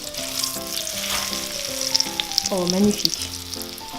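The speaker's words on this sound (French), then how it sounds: "Vous mettez ça dans un bain d'huile" Breaded chizza frying in an oil bath, a steady close sizzle running throughout under background music, with a brief spoken exclamation.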